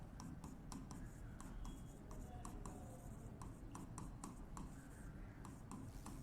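A pen scratches across paper in short repeated strokes while account entries are written, close but faint over a steady low background hum.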